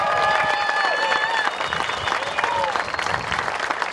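Rally crowd applauding veterans and police officers at a Trump rally, loud sustained clapping and cheering from a large audience, with voices calling out through it.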